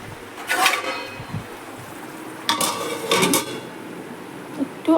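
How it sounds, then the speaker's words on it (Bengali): Metal lid set onto a pot of curry on a home stove, a few clanks and scrapes at the start and again midway, close and fairly loud with quiet room tone between. "তো প্রথমে তরকারিটাকে ঢেকে দেবো"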